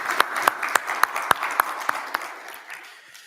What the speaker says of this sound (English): Big applause to him.